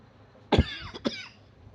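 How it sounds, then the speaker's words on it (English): Two sharp coughs close to the mic, a heavy one followed by a lighter one, then quiet. "Sorry about the coughing, guys."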